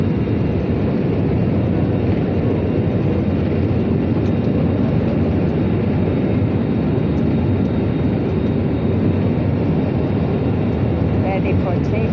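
Steady, loud broadband roar of an airplane cabin during takeoff, a constant engine rumble and rushing air with no breaks, heard from inside the aircraft.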